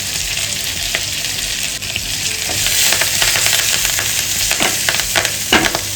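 Mustard seeds, sesame seeds, green chillies, curry leaves and asafoetida sizzle and crackle in hot oil as a tempering for Gujarati khaman, with a loud steady fry and sharp pops toward the end and no talking.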